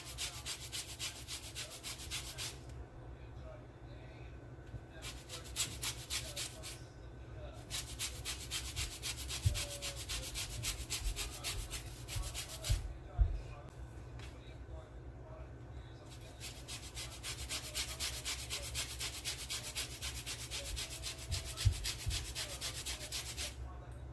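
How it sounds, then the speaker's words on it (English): Lemon zest grated by hand into raw eggs for a Jamaican Christmas black fruit cake, a steady rasping scrape repeated in strokes, fairly close and moderately loud, with brief quiet pauses between bursts. "grate some lemon zest in my egg to get rid of some of the rawness"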